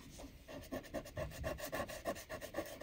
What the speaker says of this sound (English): I take my mono sand eraser.